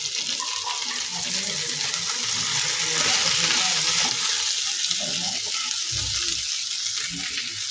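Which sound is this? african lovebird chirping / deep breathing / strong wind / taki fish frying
taki fish frying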